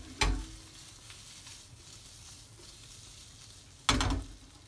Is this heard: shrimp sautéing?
yes